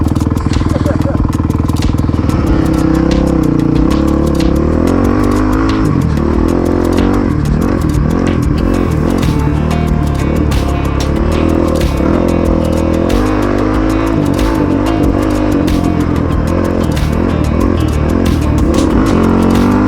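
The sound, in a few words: Honda CRF450X dirt bike ridden on a trail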